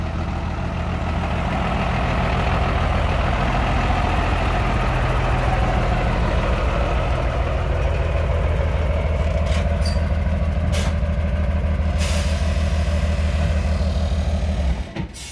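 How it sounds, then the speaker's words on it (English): A Unimog truck pulls away from a 4x4 RV campsite, its heavy diesel engine rumbling loudly and steadily nearby, followed by a few sharp hisses and clicks of air brakes near the end. "Here's a Unimog making a departure."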